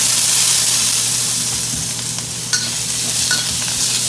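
Shaoxing wine splashed into a wok of Shanghainese stir-fry noodles, bringing a loud broad hiss and sizzle up close, with a few faint clinks of the utensil against the wok.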